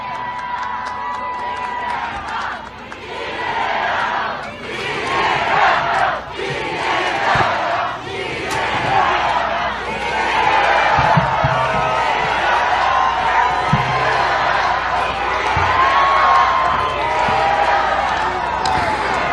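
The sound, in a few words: crowd cheering loudly at political rally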